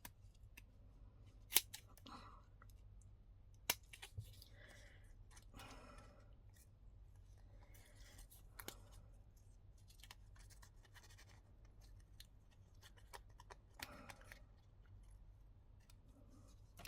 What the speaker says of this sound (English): I'm just going to use the curved scissors